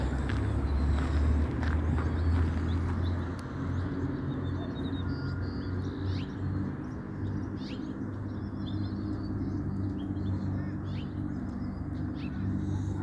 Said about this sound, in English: Some of the bird song even reminds me of South Africa.